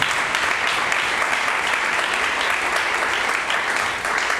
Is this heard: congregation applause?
yes